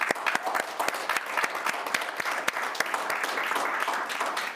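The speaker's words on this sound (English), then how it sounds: "I would like to give a warm round of applause to all our distinguished panelists." Audience applause for the panelists at an event on nature-based solutions and biodiversity, a dense crackle of many clapping hands held at an even level for several seconds with no talking.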